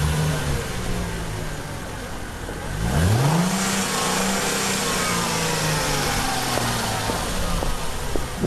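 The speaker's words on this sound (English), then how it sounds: "It's a car starting up and revving." A car engine cranks and catches, then revs up and settles into a rising, steady drone with a few sharp throttle blips near the end, loud and close with no voices.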